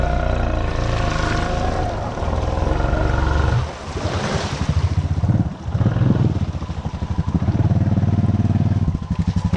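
A Honda motorcycle riding through a shallow creek, its engine roaring loud and close with churning water and splashing, the revving pulsing up and down and briefly dipping twice.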